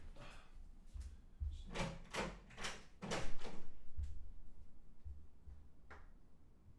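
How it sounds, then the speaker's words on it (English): A door being opened indoors, heard as a series of handle rattles and latch knocks followed by thuds, faint and close against quiet room tone, with no talking. "Let me open the door, sorry."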